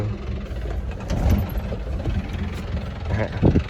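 Isuzu TFR pickup engine running in first gear, a steady low rumble with a mild knocking edge that holds throughout, a voice talking over it.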